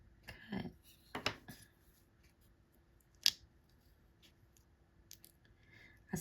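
A blunt knife blade cutting paper in a few sharp, scratchy strokes near the start, then sparse quieter clicks and scrapes with long gaps, close and fairly soft.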